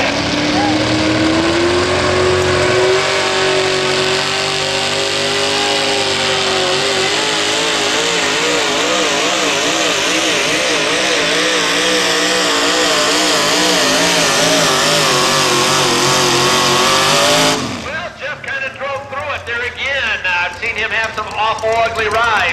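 A truck and tractor pulling engine roars at full power down the track, a loud, rough, sustained bellow with wavering pitch that cuts off suddenly, followed by an announcer talking over the crowd.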